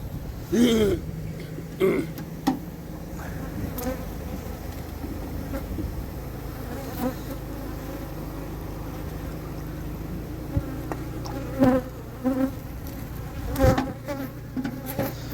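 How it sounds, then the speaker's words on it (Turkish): Bees buzz around apple blossoms in an orchard at Eğirdir, Isparta, a continuous insect drone close by, broken by a few louder passes and some handling sounds, with no talking. "Şu an bayağı arısı arıyor ama"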